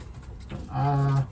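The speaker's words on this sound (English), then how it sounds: "It's a wheat check bird right here, pure wheat check." A young wheat check pigeon coos once, a close, steady low throaty note that swells and holds for about half a second over faint room noise.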